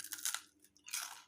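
Two crisp, crunchy bites into a fried Indonesian corn fritter (bakwan jagung), close and loud, each followed by brief chewing, with no talking.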